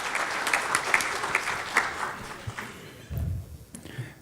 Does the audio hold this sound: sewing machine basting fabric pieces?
no